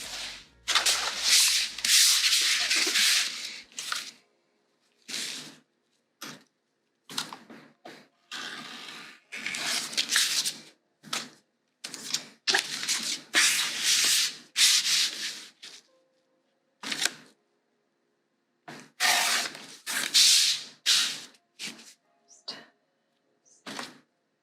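Vinyl fabric torn by hand while sewing a bag, heard as repeated harsh, bright ripping and rubbing bursts of varied length separated by short gaps, fairly close and loud with no talk.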